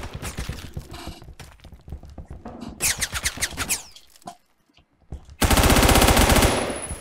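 Rapid bursts of automatic gunfire in Phantom Forces rattle in quick rhythmic strings, broken by short pauses and a near-silent gap before a final loud, dense volley.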